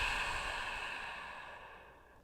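A long, deep exhale during a yoga session, a soft breathy rush that starts fairly full and slowly fades over about two seconds, close and alone with no talk.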